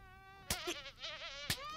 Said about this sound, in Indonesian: Ada lalat di sini.